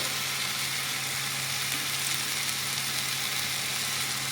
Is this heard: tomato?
yes